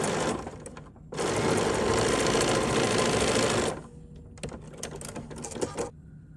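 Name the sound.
sewing machine stitching quilt squares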